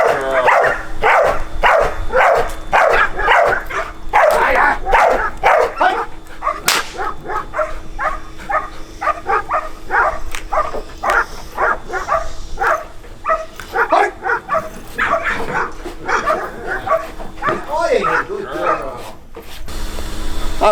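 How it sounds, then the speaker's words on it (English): A working dog barks repeatedly at prey during bite training, loud close barks in rapid bursts, with a handler's voice and a few sharp cracks in between. "Barking to the prey, barking to the prey."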